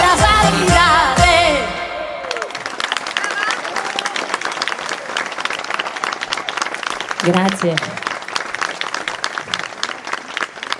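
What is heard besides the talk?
audience applause after a song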